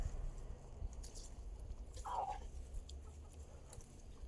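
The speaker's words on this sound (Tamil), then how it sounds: "இந்த கோழி முட்டையிடும் போல இருக்கு." A single short hen cluck, from a hen about to lay an egg, sounds faintly midway through, over a quiet outdoor background on a grape farm.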